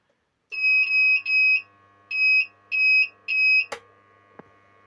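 A repaired UKC 4000W power inverter gives a series of loud, steady electronic beeps in paired bursts after switch-on, followed by a click and a faint hum.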